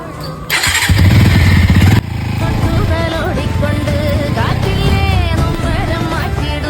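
A motorcycle engine starts up loud and close, revs briefly, then settles into a steady running rumble while voices talk over it.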